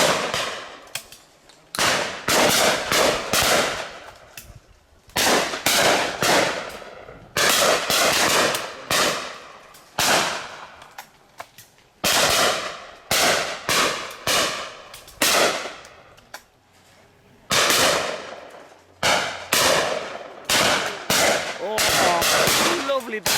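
Shotguns fire repeatedly on a simulated game shoot in Lincolnshire, with sharp loud bangs coming in quick pairs and clusters, some echoing away across open ground, separated by short quiet gaps.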